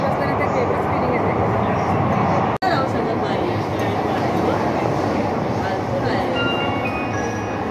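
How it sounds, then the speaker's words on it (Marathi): A Mumbai Metro Aqua Line 3 underground train runs between Worli and Bandra with a loud, steady rumble that cuts out for a split second midway, then carries on unchanged. "आपण जाणार आहोत या मेट्रो ट्रेनमध्ये"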